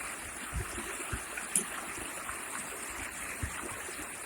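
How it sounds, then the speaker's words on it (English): Steady rushing of a stream tumbling over a small drop, a continuous wash of water with faint splashes and gurgles. "It's going to go down that little waterfall."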